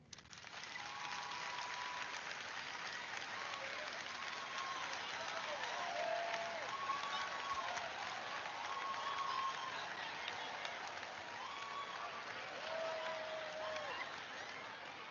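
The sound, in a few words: audience clapping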